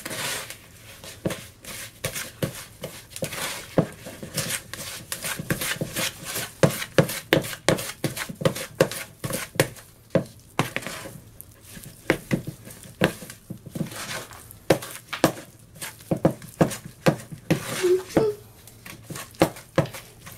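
Tray bake icing mixed by hand in a bowl for an iced bakewell tart, with close rhythmic scraping and tapping strokes repeating steadily throughout, loud and uneven.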